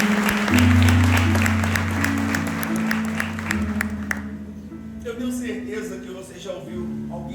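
Church congregation applauding at an evening worship service, a dense wash of clapping that fills the first four seconds under loud music, then fades to a thinner patter.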